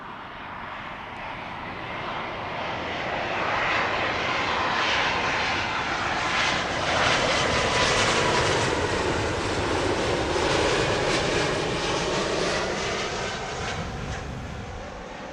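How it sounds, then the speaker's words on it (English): A slightly rattly-sounding airliner passes at Heathrow Airport, its broad engine roar swelling gradually to a loud peak mid-pass and then easing away, heard alone without talk. "That 200 sounding a little bit rattly"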